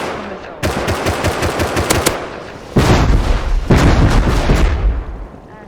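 Missile strikes in the game Rust, with rapid thunderous bursts in two long volleys of booming explosions, loud and close, with no talk over them.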